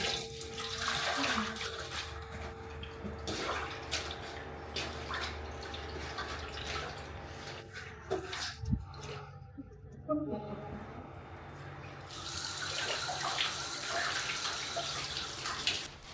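Tap water runs and splashes as green onions are washed in a rural Vietnamese kitchen, a faint, steady trickle with small drips and clatters, under a voice speaking at times.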